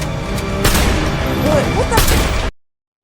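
Gunshots in a film scene come as two loud sharp bursts over a dense background of action noise, then cut off abruptly.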